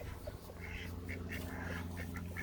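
Ducks quack in short, scattered calls at a poultry farm, fairly faint over a low steady background hum, with no talking.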